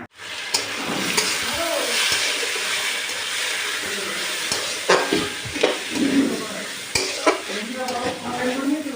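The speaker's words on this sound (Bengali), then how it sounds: "আমি মুগ ডালটা ভাজবো" Moong dal fries in a pan on a home stove, giving a loud, continuous sizzle. Stirring scrapes and clinks of a utensil against the pan break through it now and then.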